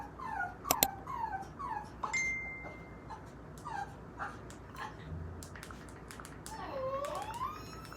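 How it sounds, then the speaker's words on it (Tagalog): A dog left behind at home whimpers and whines in a string of short, high, wavering cries at moderate distance, with a longer sliding whine near the end and soft background noise throughout. "Umiiyak yung aso ni tita dito kasi naiwan siya."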